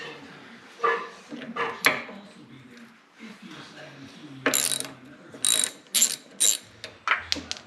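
Ratchet wrench clicks in short bursts while removing the power steering gearbox from a 1980 Camaro, with sharp metallic clanks and pauses between turns, close and fairly loud.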